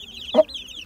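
Lasani aseel chicken chicks giving a single short cluck, close by, over faint high chirping in the background.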